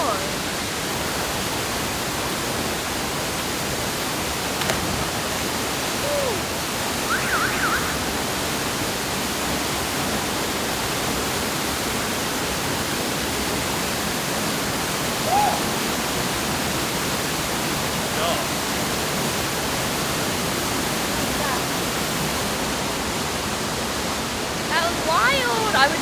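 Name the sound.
Aling Aling waterfall in Bali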